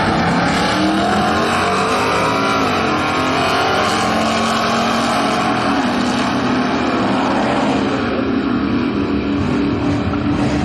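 Superstar-class drag race cars at an NSS event in St. Louis roar down the track in a loud, continuous wall of engine noise that shifts in pitch as they accelerate.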